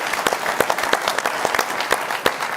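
Audience applause breaking out for a guest contributor at a live show, a dense steady clatter of many hands clapping at once, fairly loud and close, with no talking over it.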